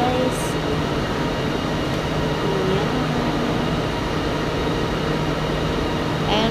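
Steady rumbling hum of a light-rail train at Bangsar LRT station, Kuala Lumpur, continuous mechanical noise with faint high squeals and a brief chime near the start.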